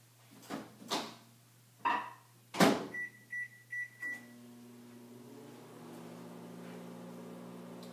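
A microwave oven heating a pumpkin pie mixture for 30 seconds: a few close thumps and clicks from the door, then a short run of beeps, followed by a steady low hum that continues to the end.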